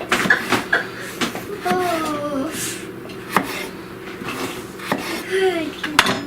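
A knife cuts the end off a potato for French fries on a kitchen board. Sharp knocks and scraping clatter come up close amid faint kitchen noise, with a voice talking softly in the background.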